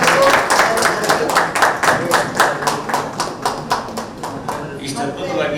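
An audience at a Kannada literary conference session on theatre claps in a steady rhythm, loud and close, the beats gradually thinning toward the end, with voices murmuring underneath.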